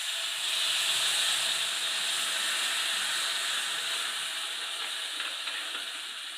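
Vinegar hits a hot pan of roasted spice powder over a lowered flame and sets off a strong steady sizzling hiss that holds close and loud for the whole stretch, fading slightly near the end.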